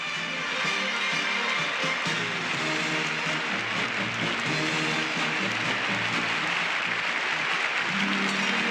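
A huge stadium crowd at the 1988 Seoul Olympics opening ceremony applauds as President Roh Tae-woo and his wife enter, a broad, steady wash of clapping under a sustained musical tone.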